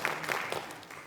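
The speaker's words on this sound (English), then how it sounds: "Big round of applause for Dylan." Audience applause at a creative sector summit in a theater, a brief stretch of steady clapping heard at a moderate distance with no voices over it.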